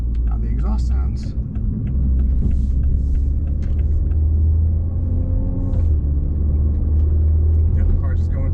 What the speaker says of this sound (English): Yep, the car's just going through the gears.